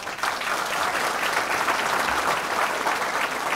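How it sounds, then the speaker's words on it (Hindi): An audience at a mushaira in Mumbai greets a poet coming to the dais with loud, sustained applause, a dense even clapping that fills the whole stretch. "पुरज़ोर तालियों से इस्तकबाल करें।"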